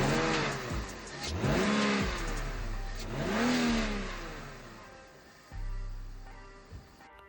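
BMW E39 530i engine revving during a DISA valve check, with three rising and falling revs from idle followed by a short blip, heard close and loud with no speech.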